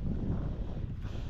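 Steady low wind rumble buffeting the microphone, continuous and fairly loud throughout, with no voices.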